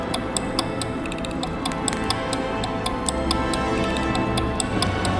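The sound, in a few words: ticking growing faster and irregular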